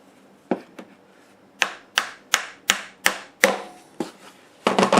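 Hammering small brad nails into a wooden segment cutting sled: about eight sharp, ringing hammer blows, close and distinct, spaced roughly a third of a second apart, then a quick flurry of lighter taps at the end, with no talking.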